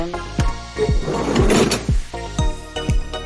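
Close mechanical clunks and clicks around the rumbling slide of the sliding door on a 2018 Hyundai Porter II high-roof box van moving along its track.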